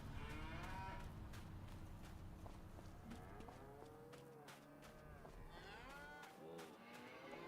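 Cattle at a cow pen in the Farming Simulator 25 video game moo repeatedly in drawn-out, overlapping calls, close and loud over a steady farmyard background.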